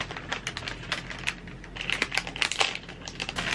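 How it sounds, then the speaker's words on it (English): Scissors cut open the plastic wrapper of an Oreo cookie package, making quick, close clicks and crinkly snips in an irregular patter with no talking. "So let's use some scissors."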